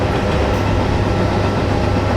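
A train driven in a zombie apocalypse video game: a loud, steady rumble of rolling wheels and rail noise with a low engine hum, continuous throughout, no voices.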